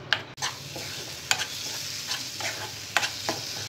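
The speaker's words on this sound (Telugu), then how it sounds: "ఈ టమాటో పేస్ట్ వేసిన తర్వాత బాగా ఉడకనివ్వాలి." Tomato paste fries in a pan for bhindi masala, a steady sizzle broken by several sharp scrapes and clinks of a spoon stirring, close and alone with no talk.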